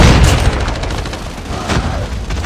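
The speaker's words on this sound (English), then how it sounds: "But who threw a grenade at me?" Grenade blast in Call of Duty: Mobile zombie siege mode, a loud boom at the start followed by a rattle of gunfire and further booms through the rest of the clip.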